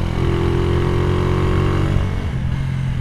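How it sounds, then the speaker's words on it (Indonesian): Motorcycle with a VND Racing aftermarket exhaust, ridden at a relaxed pace, giving a steady, loud, close-up exhaust drone that eases slightly toward the end. "Bakal coba tes sound untuk si suara knalpot yang udah kita bahas tadi cuy, si VND Racing ya, knalpot standar racing kayak gitu."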